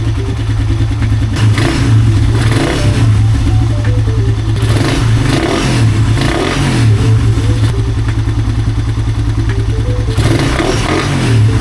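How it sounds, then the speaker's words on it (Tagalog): A motorcycle fitted with a new UMA iridium spark plug starts and revs close by, its engine rising and falling in repeated loud bursts throughout. "umandar naman yung motor natin"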